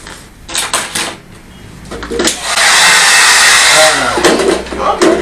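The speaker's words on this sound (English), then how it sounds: "It's just a dryer." A hair dryer switches on and blows with a loud, steady roar for a couple of seconds, with clattering and brief speech before it starts.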